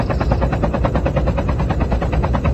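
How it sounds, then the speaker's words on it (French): Helicopter rotor chop in a Call of Duty Mobile battle royale match, a loud, steady rapid thumping pulse held close throughout with dense low rumble and no talk. "je sais pas où je vais aller me poser avec mon hélico"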